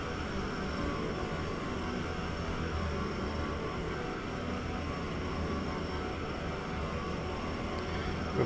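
Embraer Bandeirante twin-turboprop in a flight simulator, its engines giving a steady, loud droning roar with a constant high whine, unbroken throughout.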